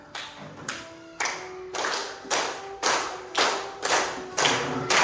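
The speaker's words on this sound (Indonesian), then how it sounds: "Sambil tepuk tangan ya." A group claps hands in a steady, slightly ragged rhythm, about eight to nine bursts of claps at a moderate pace, fairly close with no talking.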